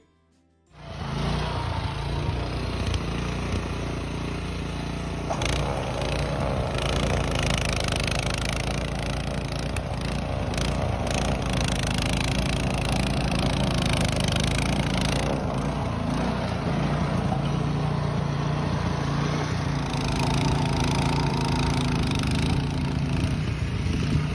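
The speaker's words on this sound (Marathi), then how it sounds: "त्यांच्याकडे मशीन आहे बर्फ काढण्याची" A snowblower clearing snow after a heavy snowstorm in Canada, heard as a loud, steady small-engine roar that starts abruptly and runs without a break, close to the microphone with no talk.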